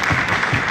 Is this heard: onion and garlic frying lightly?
no